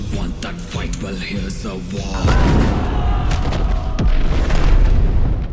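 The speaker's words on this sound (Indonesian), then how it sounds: "Pertempuran dimulai ketika salah seorang anak buah Kanaya melemparkan bom ke arah pasukan Inggris" A thrown bomb explodes during a battle scene in an action film, with a heavy boom followed by sustained rumbling blasts and sharp cracks like gunfire, loud and dense throughout.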